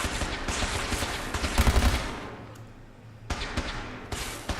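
Gunfire from gunners in Fallout 4, with sharp bursts of shots crackling at moderate volume, a brief lull in the middle, then more shots resuming.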